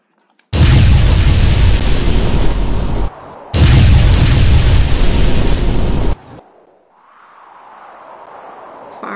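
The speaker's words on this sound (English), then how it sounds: "Firing my laser." Superman's laser firing in a Roblox game: two loud, sustained blasts of roaring, explosive noise, each lasting a few seconds with a brief gap between, then fading into a low rumbling tail.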